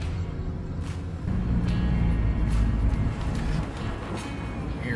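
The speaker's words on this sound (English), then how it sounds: "Taking the Mini out for a little spin. A little test drive." A Mini Cooper that has sat unused for a couple of years rolls along on a test drive, a low steady engine and road rumble that swells briefly and then settles, heard from inside the car.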